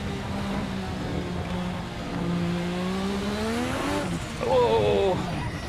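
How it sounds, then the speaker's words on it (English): A 1986 Formula One car in Assetto Corsa wails through rising and falling engine revs, its pitch sweeping up through the gears before a sharp tire squeal, with a voice talking over it. "in a 1986 Formula One car"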